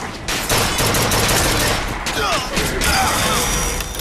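Dense, sustained gunfire and rapid bursts in BioShock 2 as a turret is shot down, loud and continuous for several seconds with crashing impacts mixed in.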